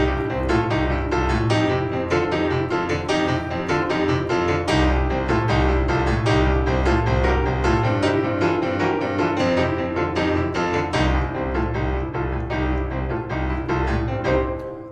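A boogie woogie groove on piano, with a driving repeated bass pattern under busy right-hand chords, played briskly and continuously at full volume with no talking.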